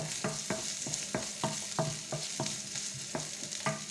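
Spiced courgette filling is stirred in a pan, with regular scraping strokes of the spoon every half second or so over a steady, close sizzle and no talking.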